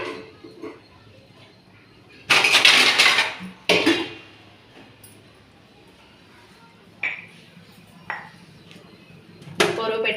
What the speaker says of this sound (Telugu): దానిపైన ఒక మూత పెట్టుకోవాలండి